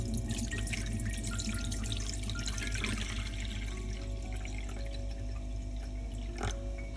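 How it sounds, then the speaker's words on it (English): About a liter of water runs steadily into a pot, a close, continuous splashing pour with dripping and faucet-like trickle throughout, no voices. "prepare a pot and add about 1 liter of water"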